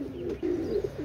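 A black Saharanpuri pigeon with cream-coloured eyes, one of a pair offered for sale, gives a short, close, throaty cooing phrase of a few soft pulses.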